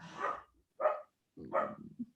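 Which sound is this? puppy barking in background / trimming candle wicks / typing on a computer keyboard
puppy barking in background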